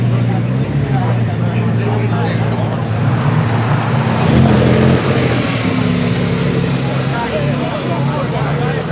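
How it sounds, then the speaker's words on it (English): Cars leaving the London Concours 2025, including a Porsche 911 Turbo 50th anniversary edition, make a dense, loud engine and road rumble that swells slightly as a car passes, with a continuous crowd and traffic wash. "The 50th anniversary turbo, that Porsche 911."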